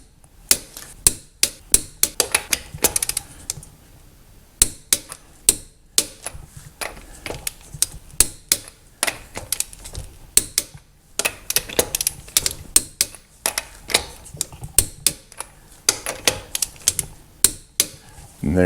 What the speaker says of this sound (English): I got the torque wrench set to 100 foot-pounds.